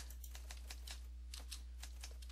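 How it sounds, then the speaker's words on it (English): Rapid typewriter keystrokes clatter in an irregular burst from the Hotel Remorse video game, crisp and fairly quiet over a steady low hum, with no voices. "Oh, that's the typing."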